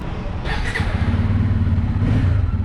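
A Bajaj Pulsar N250 motorcycle engine drones while being ridden, a loud, close, low throbbing that builds and rises as the rider moves along, with no speech.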